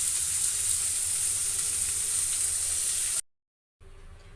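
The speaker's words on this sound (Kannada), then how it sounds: "ನಾನು ಇನ್ನೊಂದು ಪ್ಯಾನಲ್ಲಿ ಸಾಂಬಾರು ಒಗ್ಗರಣೆ ಮಾಡ್ಕೊತಾ ಇದ್ದೀನಿ" Hot oil sizzling steadily in a pan for a sambar tempering for sprouted horse gram sambar, a close, even hiss that cuts off abruptly into near silence before resuming faintly.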